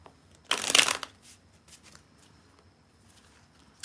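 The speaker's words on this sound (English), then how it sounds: "I'm going to shuffle the cards." Playing cards riffle-shuffled during a livestream, a single brisk burst of rapid flutter lasting about half a second, close and fairly loud, then trailing off into faint handling noises.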